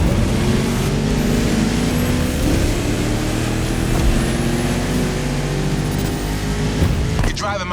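A 1969 Mustang Boss 429 engine in a driving video game, a steady loud rumbling drone that holds throughout with a slight rise and fall, mixed with other game sounds.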